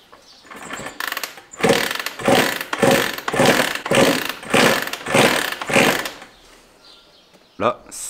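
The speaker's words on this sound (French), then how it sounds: "J'ai essayé de démarrer la moto" Repeated kick-start attempts on an 80 CR motorcycle engine after 16 years unused, a rhythmic series of about eight loud sputtering bursts with brief gaps, then a final short burst.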